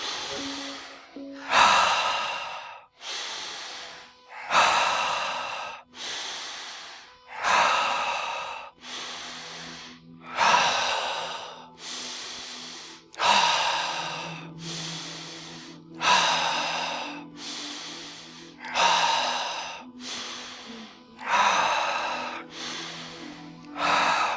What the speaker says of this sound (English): Good alkaline breathing.